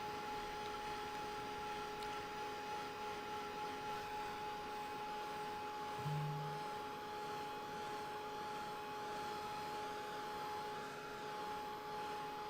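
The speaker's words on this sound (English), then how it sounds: "Everything dries lighter again once you take the dryer to it." Hair dryer blowing on watercolor paint, a steady faint whirring drone with a constant tonal whine that holds evenly throughout, with no talk over it.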